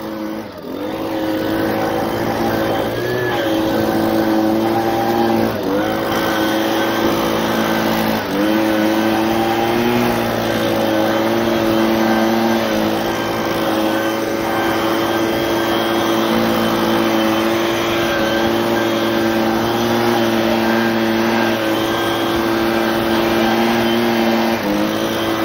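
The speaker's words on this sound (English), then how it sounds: "I got my leaf blower started up here." A leaf blower is running outdoors to clear snow from railroad switches. Its engine gives a loud, continuous buzzing drone close by, with the pitch dipping and rising slightly as it works.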